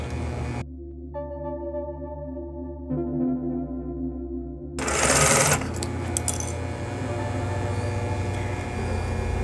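A sewing machine stitching a 1 cm seam on a lace evening bag, giving a steady mechanical whir with a hum that shifts pitch, then a louder, rougher burst of rapid stitching.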